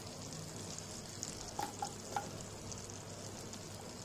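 Ginger and garlic sauté in two tablespoons of butter in a pan for hot and sour soup, a soft, even sizzle with a few light clinks of stirring.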